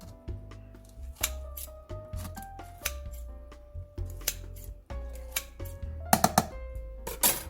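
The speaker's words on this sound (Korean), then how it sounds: "미역을 조금 잘라줄게요. 그냥 가위로 대충 이렇게" Scissors cut through dried miyeok seaweed in a home kitchen with a series of sharp, close snips in an uneven rhythm, along with crisp crackling and rustling of the brittle seaweed.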